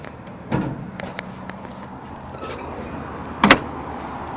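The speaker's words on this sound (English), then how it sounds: "I love the way those doors close." Doors on a 1941 Chevy Master Deluxe Coupe shut with solid thuds, one soft close early and a louder sharper slam near the end, with light handling noises between and no talk.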